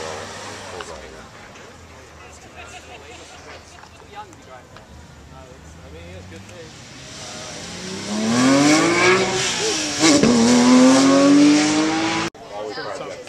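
A Ferrari six-cylinder engine revs outdoors at a club gathering, rising from a distant drone to a loud climbing rev and a second surge near the end, with people talking over it.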